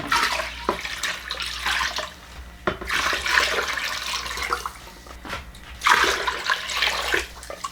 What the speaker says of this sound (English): Now I'm just going to add some more water so the height of the liquid could get up enough to cover